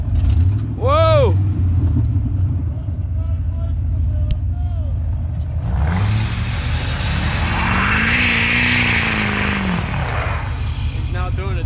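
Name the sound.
mud truck engine revving, pulling in snow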